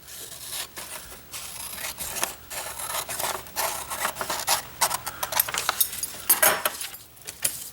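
Scissors cut out a sewing pattern along a line for the front piece, which is laid on a fold, giving close, steady rasping snips and paper rustles that repeat unevenly and grow a little louder toward the end, with no talking.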